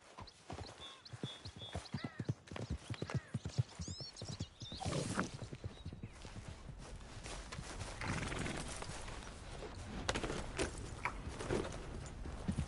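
Horse hooves clip-clop steadily in Red Dead Redemption 2, a rhythmic walking gait close up, with an occasional whinny and game ambience layered around the steps.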